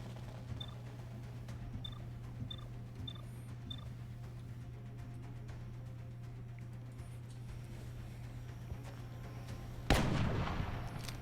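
A single sharp gunshot blast from the XCOM Long War video game cracks out near the end, loud and reverberant, following soft ticking clicks over a steady low hum.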